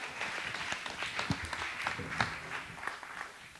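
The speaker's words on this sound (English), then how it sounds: "A round of applause for all the other comics here" A comedy club audience at a stand-up night applauds the performers, a patter of scattered hand claps with a few sharper ones, moderate in volume and continuing steadily.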